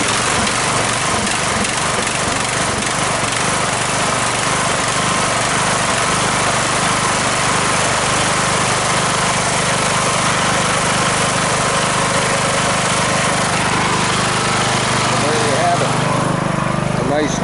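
A hacked lawn tractor engine runs steadily after being started, a loud continuous buzzing drone with a slight change near the end and no pauses.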